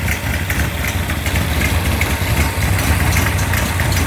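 A Mopar 360 crate engine idling around 900 RPM on a test setup, a loud, steady, low rumbling idle with a slightly uneven lope, close up and unbroken, with no voices.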